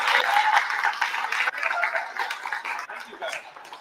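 An audience at a community gaming event breaks into applause, clapping strongest at first and then tapering, with voices talking over it.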